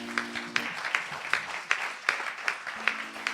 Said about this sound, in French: je veux vous prier de l'encourager par vos acclamations